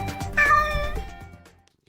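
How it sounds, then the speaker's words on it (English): A small male cat gives one clear, drawn-out meow close by, trailing off into quiet, with a faint low rumble underneath and no speech. "Can you hear this little boy purring?"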